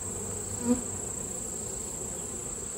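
Honey bees crawling over a hive during bulk feeding, giving a steady, soft insect hum close by with one brief louder buzz, no talking.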